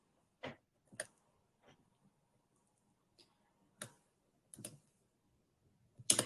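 A computer mouse clicks sharply, close and quiet, in a few scattered single and paired clicks spaced by silence while effects are added in design software.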